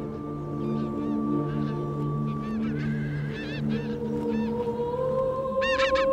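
Geese honk in short, repeated calls that grow denser toward the end, over a low droning hum and soft background noise.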